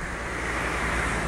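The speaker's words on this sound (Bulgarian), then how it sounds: "брега и морето срещу мене" Sea waves on a shore, a constant loud wash of surf with wind noise against the microphone and no voices.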